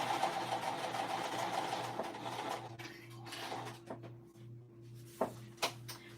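A sewing machine base-stitching a cork crossbody bag whirs steadily and quietly with a low hum, then stops and gives way to a few soft clicks and handling knocks near the end.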